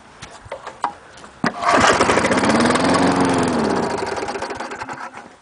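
A 1984–1995 Murray/Toro lawn mower engine cold-started on a chilly day: a few sharp pull-cord clunks, then the engine catches and runs loud and rough, its steady chugging fading slightly as it settles toward idle.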